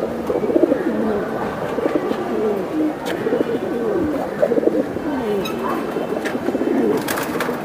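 Racing pigeons of the Giribaz homer type, including a military breed pair in a loft, coo repeatedly in soft throaty rolls, several birds overlapping at close range, with faint clicks and scuffs in the background.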